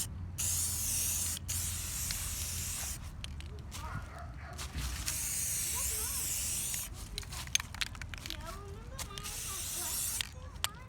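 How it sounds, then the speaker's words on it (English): Steady hissing of a spray paint can marking the ground for a foundation dig, held down in long bursts, with brief pauses and some shuffling and handling noises in between. "spray paint the ground."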